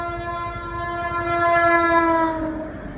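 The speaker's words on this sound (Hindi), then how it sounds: "अगर तुम लोगों ने बहुत दिनों से छुचुक छुचुक नहीं सुनी तो मैं तुम्हें सुना देता हूँ" A train horn sounds one long, loud sustained blast near at hand, fading slightly at the end, with the rumble of rolling rail cars underneath.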